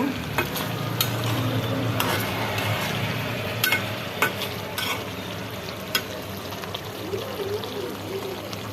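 Boal fish frying with spices in a pan and being stirred, a steady close sizzle broken by scraping stir strokes and a few sharp clinks, with no talking.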